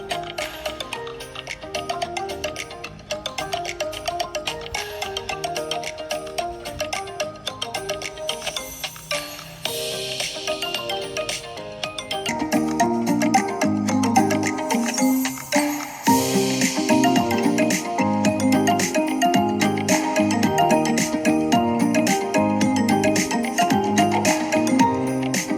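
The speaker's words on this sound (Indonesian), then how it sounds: "Lanjut kita tes audio speakernya. Speakernya stereo, atas bawah nyala, dan seperti ini kualitas suaranya." Music plays through the stereo top and bottom speakers of an Asus ROG Phone 5 gaming phone, a continuous melodic track with steady beats that grows fuller and louder partway through.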